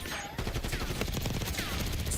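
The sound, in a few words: GPMG7 light machine gun firing in video game Black Ops 6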